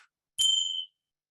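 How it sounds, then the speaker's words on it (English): A meditation chime struck once at the close of a session, giving a bright ringing tone with a clear attack that sustains for about half a second before fading, heard alone in a quiet room. "I'm just going to chime now to finish this one off."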